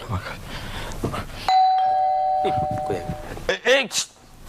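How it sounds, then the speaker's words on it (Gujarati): A doorbell in a home rings once, a loud, sustained electronic chime that stands out between bursts of talk before and after. "પણ ડોરબેલ વાગી. હા, ડોરબેલ વાગી."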